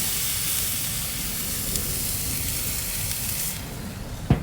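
Pork chops on a hot grill, smoked and headed for smothering, give off a steady broad sizzle and hiss that runs unbroken, ending with a brief knock near the close.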